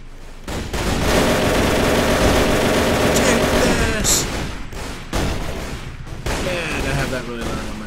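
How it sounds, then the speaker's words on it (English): World War I machine guns rattle in a Warband mod battle, dense, continuous fire that is loud and close with overlapping bursts and booms, broken by brief lulls and bits of other battle noise. "these are like authentic World War I machine guns that they have right there"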